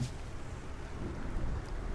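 Deep, continuous rumbling thunder rolls under a steady hiss of rain, dense and unbroken throughout, in the video game Don't Starve: Shipwrecked.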